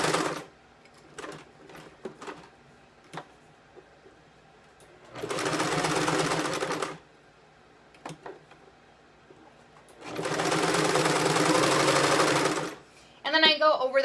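A sewing machine stitches a seam on a cover strap in two sustained runs of rapid whirring, separated by quieter pauses with small clicks and handling noises.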